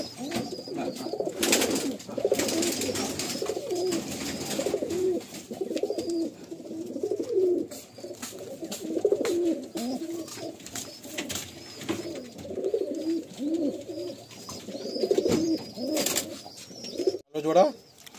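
Madrasi old line pigeons coo in a loft, soft repeated throaty calls layered throughout, with people talking over them and occasional handling noises and a brief wing flutter near the end.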